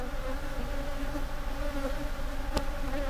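Aggressive Africanized bee colony in defensive mode, a dense, continuous buzzing swarm close by, steady and moderately loud with no voices.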